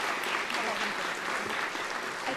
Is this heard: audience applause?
yes